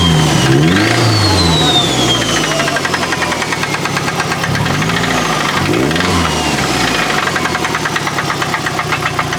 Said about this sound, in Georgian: ამას აქვს ცოტა მყიფე ხმა, მაგრამ ძრავი ვაფშე სხვანაირია